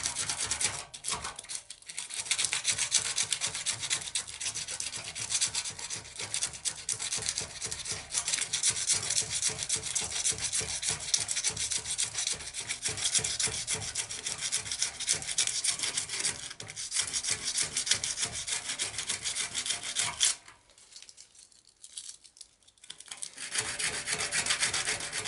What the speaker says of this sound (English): you're going to work with a small piece of sandpaper